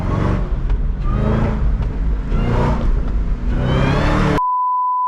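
A Cadillac CTS-V drives with engine revving in repeated surges and a rising supercharger whine, loud and close, before cutting abruptly to a steady electronic beep tone.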